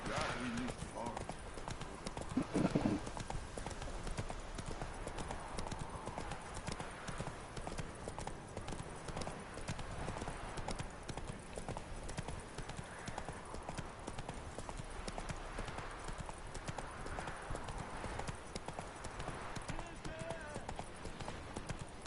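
Horse hooves clip-clopping steadily on a path during riding in The Witcher 3, a continuous rhythmic trot running under someone talking in Swiss German throughout.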